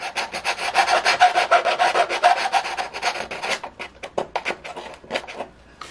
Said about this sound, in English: So I have to see if I can get in here with the emery board. Do some dressing up here.